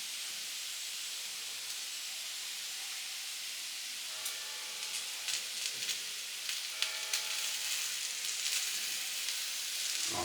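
Tofu and spring onions fry in a pan with a steady, close hiss and sizzle, joined partway through by scattered crackles and pops.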